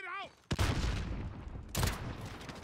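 Two loud Kar98K rifle shots in a shooter video game, each a sharp blast with a long rumbling tail, about a second apart, after a brief bit of speech.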